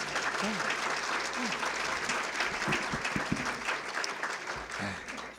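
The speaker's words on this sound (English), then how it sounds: "Let's give her a great big round of applause." Audience applause fills the room at a congressional member's public speech event, a dense steady patter of many hands clapping throughout, with faint voices and brief tonal sounds mixed beneath.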